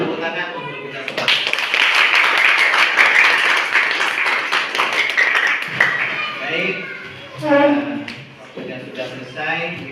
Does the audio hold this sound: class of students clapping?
yes